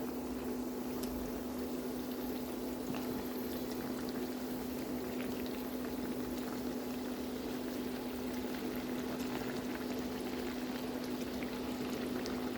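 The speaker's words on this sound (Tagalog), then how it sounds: "fry our donuts for about 4 to 5 minutes on each side or until it turns to brown" Donuts frying in hot oil in a frying pan, a steady, even bubbling sizzle with a low hum underneath, continuous and unchanging with no talking.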